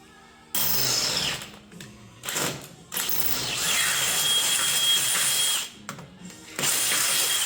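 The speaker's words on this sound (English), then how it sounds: "not a whole lot of drilling, but just enough to annoy you" A power drill whirs in several bursts while fitting a 305 engine and TH700R4 transmission into a Jeep CJ7, revving and pausing, with ratcheting, grinding tones close by.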